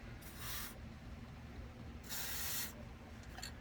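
AMSOIL MP synthetic protectant sprayed onto a classic car in two short hissing bursts from an aerosol can, fairly quiet and close, with a brief spurt at the end.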